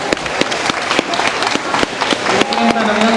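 Audience applause for the Ebisu-ren Awa Odori dancers at an indoor dome during a typhoon, with steady, close clapping from a crowd and a voice talking over it.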